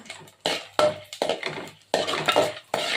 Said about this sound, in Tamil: அதுக்கப்புறம் வரமிளகா, கடலைப்பருப்பு, பூண்டு எல்லாம் போட்டு நல்லா ஃப்ரை பண்ணிக்கோங்க